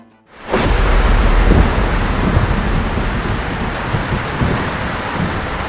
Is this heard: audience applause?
no